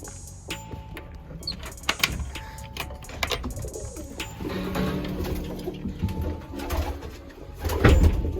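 Pigeons coo in a pigeon loft with repeated soft, rounded calls from several birds, set against a quiet room tone, with occasional clucks and a few sharp knocks and rustles between the calls.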